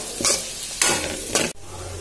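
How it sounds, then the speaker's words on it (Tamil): Vegetables for veg noodles sauté in a hot pan, with a continuous sizzle broken by three loud stirring tosses, the last ending abruptly before the frying settles back. "எல்லாத்தையும் சேர்த்து நல்லா வதக்கி விட்டுருங்க"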